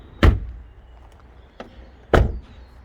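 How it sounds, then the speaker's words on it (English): Two solid Rover 416GTi car door thuds, one early and one about two seconds later, each a heavy low slam with a brief metallic rattle, plus a softer click between them. "Door shut sounds."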